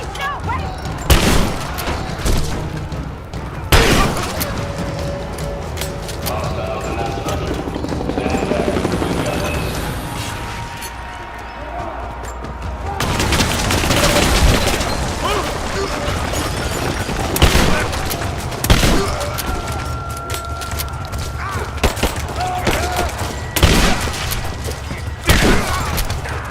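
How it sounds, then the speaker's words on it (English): Gunfire from the Rise of the Tomb Raider video game during a firefight at the edge of a village: repeated sharp bangs and bursts across a steady rumbling backdrop, with a helicopter-like drone and voices in between. "We're under fire at the edge of the village."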